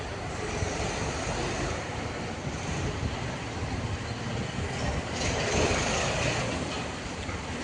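The Tirupati–Karimnagar Humsafar Superfast Express pulls into platform 1 at Karimnagar station with a steady, low rumble of rolling coaches and faint wheel clatter, close and continuous, swelling slightly near the end.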